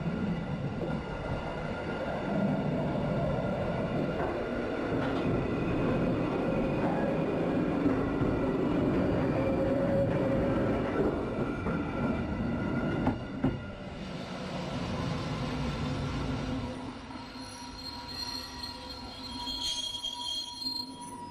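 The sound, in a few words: Golden Pass Express variable-gauge train running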